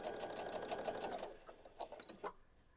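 A sewing machine stitches a miniature Christmas stocking with a fast whirring buzz that slows into a few separate stitches and then stops, close and fairly quiet.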